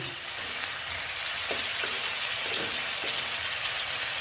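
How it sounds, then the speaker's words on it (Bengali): Spices and vegetables, including potato, cauliflower and bori, sauté for a koi fish curry in a pan, giving a steady close sizzle with a few soft stirring knocks and no talk. "দেখো আমার প্রায় কষানো হয়ে গেছে এখন আমি এখানে জল অ্যাড করতে পারি"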